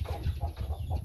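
Chickens cluck at a backyard coop, a quick run of four or five close, low, rhythmic clucks with no talking.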